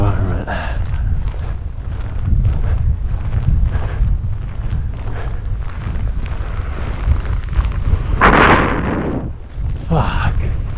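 Strong wind buffets the microphone in a steady low roar, with a sharp gust burst near the end and a voice speaking over it, high on a mountain at Chamonix's Vallée Blanche.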